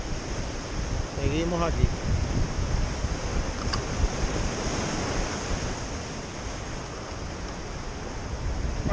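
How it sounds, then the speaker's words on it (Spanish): Steady wind roars and buffets the microphone at the seashore during a fishing session, surf noise mixed in, while someone speaks briefly near the start. "todavía tenemos el viento dando que hacer"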